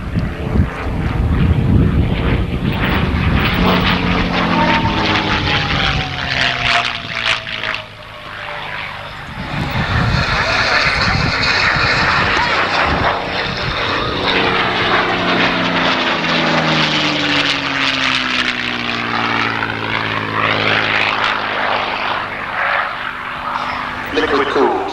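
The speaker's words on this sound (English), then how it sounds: "Another aircraft that's appeared in Memphis Belle, that film, and also Steven Spielberg's Empire of the Sun." A liquid-cooled WWII propeller aircraft flies past at the 1992 RAF Honington airshow. Its loud engine drone swells and sweeps in pitch as it passes, with commentary heard over it.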